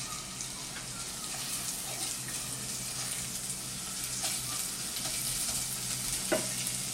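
Chopped onion, one medium-sized, fries in a pan for yellow moong dal, a steady broadband sizzle held throughout with a few faint stirring clicks and scrapes, fairly quiet and without talk.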